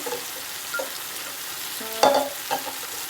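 Spices hitting hot oil to temper cooked dal, a steady low sizzle with a brief louder crackle and clink of utensils near the end, close and without speech.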